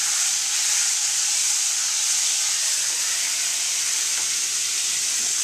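Liquid poured into a hot pan of pork chops sets off a loud, steady sizzle and hiss that holds evenly throughout with no talking.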